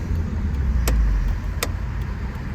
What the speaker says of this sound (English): Hopefully folks hear that beautiful V6 whine with the windows down.